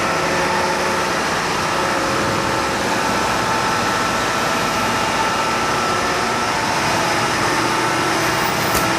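A ship's main engine, one of two, runs in the engine room, filling the space with a loud, dense, unbroken mechanical roar and steady hum.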